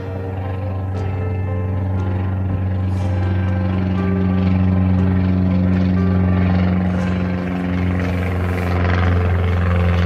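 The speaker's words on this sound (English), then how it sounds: "They were literally flying planes 200 feet overhead every 5 minutes until after midnight." A loud, steady low drone of an aircraft about 200 feet overhead at an Overland Expo campsite, a deep sustained rumble with tonal hum that holds for the whole stretch without fading.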